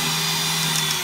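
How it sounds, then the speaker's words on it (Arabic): An electric mixer whisks vanilla and sugar at high speed for a chocolate cake, giving a loud, steady motor whine with a constant pitch and no pauses or voices. "بحط الفانيلا والسكر، بخفقهم مع بعض على سرعة عالية"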